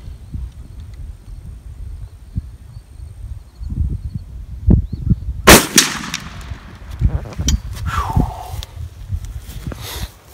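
A full-choke shotgun loaded with hard cast buckshot fires once at close range, a sharp loud blast that rings out over quiet outdoor background noise.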